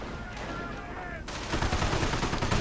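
Sniper rifle fire in a German-side matchup of a real-time strategy video game, with dense gunfire and explosion-like bursts crowding in after a quieter opening, loud and continuous under faint voice.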